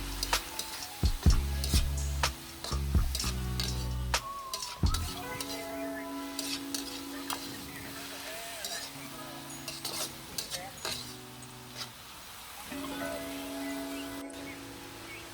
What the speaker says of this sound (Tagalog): magdagdag na tayo ng ating carrots, ating beans, at hahaluin po natin